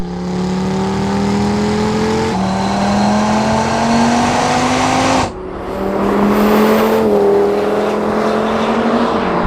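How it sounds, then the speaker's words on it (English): Two Audi RS3 cars, one new and one 13 years old, accelerate hard in third gear in a rolling drag race from 50 mph. Loud close engine roar with rising pitch, a brief gear-change dip, then more climbing revs. "let's test in-gear acceleration with a rolling race from 50 miles an hour in 3rd gear"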